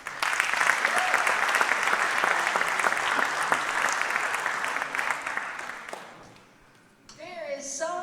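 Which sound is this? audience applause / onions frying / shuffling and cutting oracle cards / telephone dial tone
audience applause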